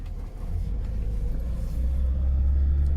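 A 1988 Lada Niva 4x4 accelerates hard in first gear, its engine a steady, loud low rumble that builds gradually, heard from inside the car with no talking.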